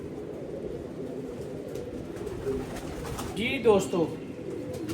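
Domestic pigeon cooing softly during a close look at a breeding pair, low murmuring coos under steady background noise, with someone briefly speaking near the end.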